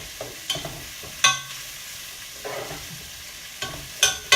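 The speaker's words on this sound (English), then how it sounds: "So just browning the mushrooms, getting them all covered in that nice greasy bacon fat." Mushrooms browning in greasy bacon fat in a pan: a soft, steady sizzle close by, broken by several sharp clinks and scrapes of a utensil stirring against the pan.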